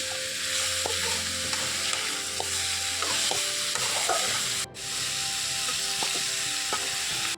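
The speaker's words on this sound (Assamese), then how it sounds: "এইখিনিও অলপ সময় ভাজি ল'ম।" Pork pieces sizzle and fry in a pan with turmeric, salt and chilli while a utensil stirs and scrapes in repeated strokes, close and loud with no talking.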